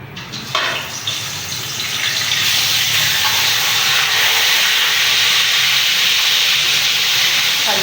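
Marinated chicken tikka pieces hitting hot oil left from frying onions for biryani, giving a loud, steady, close hiss of frying that swells after a brief start and holds constant.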